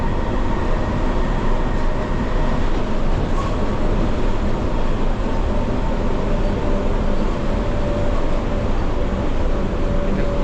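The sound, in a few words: computer-driven automated train in Kuala Lumpur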